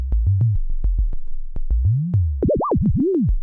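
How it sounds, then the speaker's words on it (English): Wiggly synthesizer tone from through-zero FM slowed to LFO rate: a run of short pulsing blips, then a sweeping pitch that bends up and down in looping curves, clean and alone with no talk. "now it sounds more like what an LFO would do to a sound"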